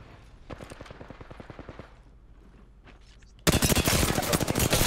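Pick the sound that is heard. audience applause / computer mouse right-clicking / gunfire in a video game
gunfire in a video game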